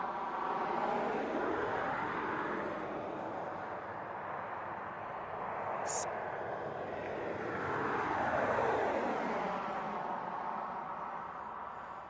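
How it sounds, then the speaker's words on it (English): An airliner taxis at East Midlands Airport, its engines a steady, moderately distant roar that swells and then fades. "he's going to vacate there and then taxi across from there"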